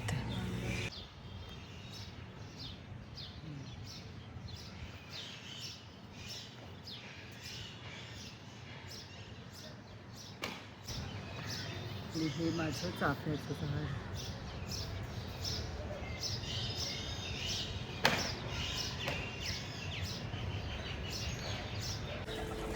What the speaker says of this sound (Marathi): चिमण्यांचा चिवचिवाट आहेच